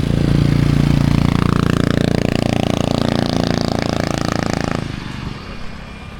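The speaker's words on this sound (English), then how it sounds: "There's somebody there with a moped loaded up." A loaded-up moped engine runs loudly on a street in Koh Lanta, Thailand, giving a steady, close drone that cuts off sharply near the end, leaving quieter street background.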